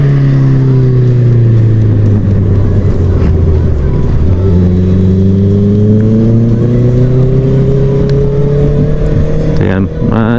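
A Honda CBR 650 motorcycle overtakes on a rocky mountain road ride. A loud, close engine drone holds steady, dips briefly, then climbs in pitch, with wind rush throughout.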